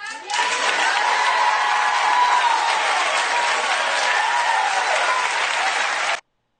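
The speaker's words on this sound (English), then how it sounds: "the audience is applauding, giving her a standing ovation" Sustained loud applause from an audience giving a standing ovation, dense steady clapping from a large crowd that holds for about six seconds and then cuts off abruptly.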